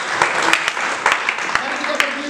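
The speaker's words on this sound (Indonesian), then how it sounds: "Kita beri tepuk tangan" A church congregation applauds during a sermon, dense clapping with a few sharper claps standing out, fairly loud and continuous, with some voices mixed in.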